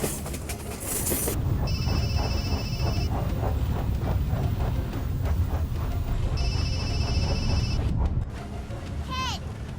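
A telephone rings twice in a bright, repeating electronic trill, each ring lasting over a second, under continuous rumbling train noise and voices during a train robbery.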